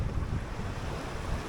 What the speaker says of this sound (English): These gusts are gusting 30 knots, and they're creating waves